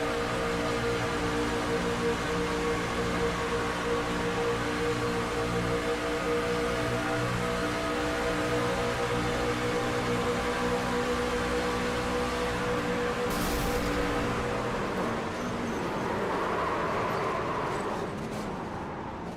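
Onboard sound of a Truck Series race truck at Talladega as its engine blows, a loud steady engine drone with harmonic tones that breaks up and falters near the end.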